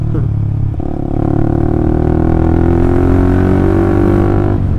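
An old Honda CB150R with a DOS full-system exhaust muffler runs steadily, a loud, close, deep engine drone that dips briefly and then holds a rich, throaty rumble.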